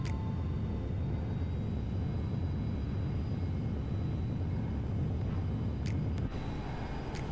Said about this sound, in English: This was a really bad takeoff.